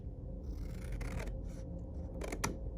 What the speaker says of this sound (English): So we are going to cut straight down